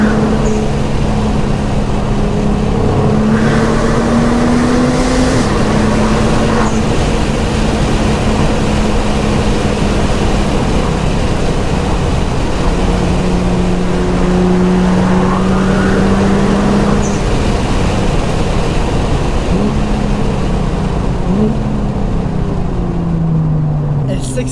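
Nissan GT-R Track Edition pulling hard out of corners, its engine note rising and falling in long steady sweeps with repeated acceleration runs, loud and continuous with wind and road roar, and someone talking over it.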